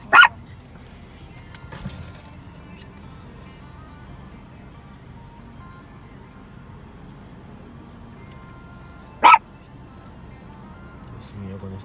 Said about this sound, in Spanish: Dios mío, con este perro de la muerte.